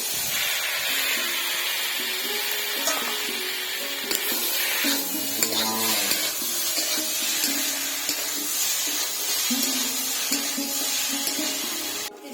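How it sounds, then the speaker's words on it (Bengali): Ground cumin, onion and green chili paste frying in a pan for a tengra fish curry gives a constant loud hissing sizzle, with occasional soft stirring scrapes, close up and without speech. "জিরা বাটাটা পেঁয়াজ বাটা কাঁচা লঙ্কা বাটাটা একসাথে আছে এখন দেওয়া দিব"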